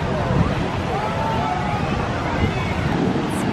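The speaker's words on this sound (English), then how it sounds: "Definitely testing the wind jammer again today because the wind is super strong" Strong wind sweeps a beach in Bahia, Brazil, a loud constant roar of rushing air blended with surf, steady throughout with no letup.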